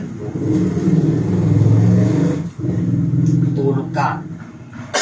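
A loud, steady engine rumble with rising revs fills the cab, close and continuous.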